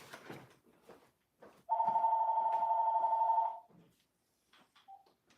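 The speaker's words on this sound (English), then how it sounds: "I got a phone call coming in." An old-school landline telephone gives one continuous electronic ring of about two seconds, loud and close. A man murmurs briefly before and after it.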